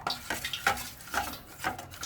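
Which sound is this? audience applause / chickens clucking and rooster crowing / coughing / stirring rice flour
stirring rice flour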